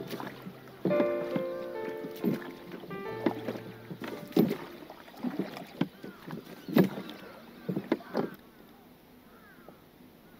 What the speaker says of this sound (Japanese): 小さな手漕ぎボートを漕いでいく。